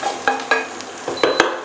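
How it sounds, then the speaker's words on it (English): Beef pieces for goulash sizzle with onions in a hot pan, with several sharp stirring scrapes and clinks over a steady frying hiss, heard close. "we keep cooking the meat in a high heat, till it's all nice and brown"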